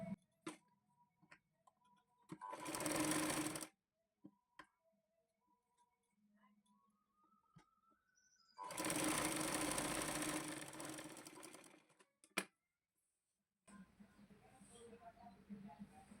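A sewing machine stitches a hook strip for a blouse in two sustained bursts of whirring, separated by quiet handling ticks and clicks, with fainter rustling and movement toward the end.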